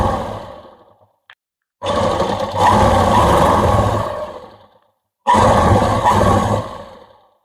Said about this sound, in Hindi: हमें इस पे भी सिलाई मारेंगे